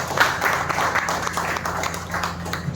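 Audience at a cooperative housing society training programme in Thane applauds the organisers, a steady wash of many hands clapping at moderate loudness, fairly even across the moment with a low hum underneath.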